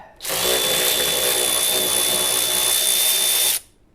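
A Milwaukee M12 cordless power ratchet runs in one continuous burst of about three seconds, a steady loud motor whine with a high tonal note, starting and stopping abruptly in a garage during clutch and gearbox work on a Fiat Panda 100hp.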